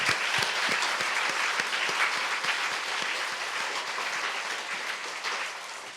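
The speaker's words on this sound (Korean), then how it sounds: "또 박수 한번 쳐요" A church congregation at a Korean Sunday worship service applauds, a dense, steady wash of many hands clapping close and loud for the full stretch, easing slightly toward the end.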